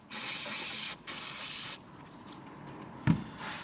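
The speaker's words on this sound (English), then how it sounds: "I'm going to use some silicone spray for these O-rings" Two loud bursts of silicone aerosol spray hiss up close, one after the other, onto O-rings during a Ford Mondeo diesel leak repair, followed by a quieter clatter and a brief knock.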